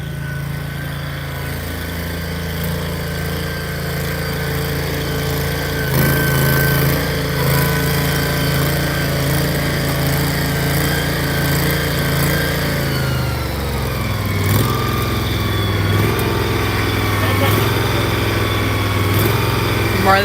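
A small tractor engine on a 5-acre homestead runs steadily at a close, loud idle-to-working pace, with a pitch shift partway through as the load or throttle changes, and no talk over it.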